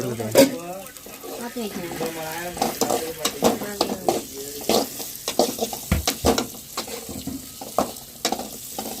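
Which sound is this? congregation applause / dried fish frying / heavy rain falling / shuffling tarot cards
dried fish frying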